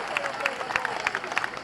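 Crowd at a Rifondazione Comunista political rally in Rome applauding and cheering, a dense, steady wash of clapping with scattered shouts, moderately loud and continuous throughout.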